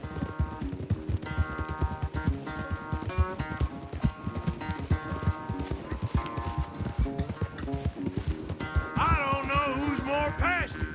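Horses gallop in a race in the Red Dead Redemption 2 video game, a steady rapid clip-clop of hooves running throughout with music and game sound over it, growing busier near the end.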